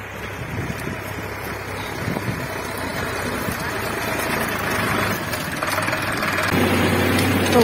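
A new Solis Yanmar tractor pulling a 3MB reversible plow in a field keeps up a steady, rising engine drone, mixed with gusty wind noise at the microphone while someone talks.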